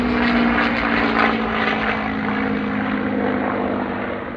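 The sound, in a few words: four P-40 Warhawk warbirds flying an airshow display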